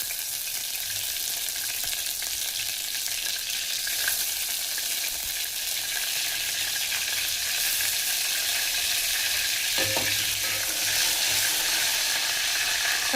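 Cumin and mustard seeds tempering in hot oil: a dense, continuous sizzle with light crackling pops scattered through it, heard close up, and a couple of brief clinks partway through.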